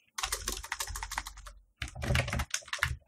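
Fingers type on a computer keyboard in two quick bursts of close, clattering keystrokes separated by a short pause.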